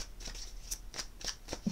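A deck of tarot cards is shuffled by hand up close, giving a rhythmic series of soft riffling flicks and slaps about every quarter second.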